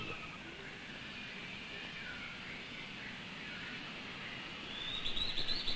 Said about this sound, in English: The sounds you hear are those of ant birds.